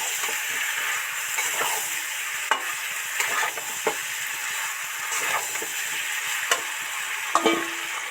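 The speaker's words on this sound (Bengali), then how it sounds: "নেড়ে চেড়ে ভালো করে মেশাতে থাকবো।" Fried potato and pumpkin are stirred into a sizzling spiced masala in a pan, with a steady frying hiss broken by periodic scraping clicks from the spoon.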